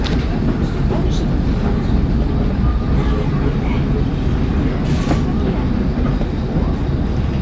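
A vintage Rälsbussen railbus runs along the rails on a heritage trip from Gävle, a loud, steady low rumble and rattle with occasional clanks from the track, heard from inside the car.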